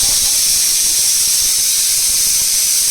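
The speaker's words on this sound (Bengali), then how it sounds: "লাস্ট সিটি পড়ছে পড়লে পরেই গ্যাসটা বন্ধ করে দেবো" A pressure cooker on a gas stove cooking lentils and soybean vents its final whistle, a loud continuous hissing jet of steam running steadily the whole time, close by.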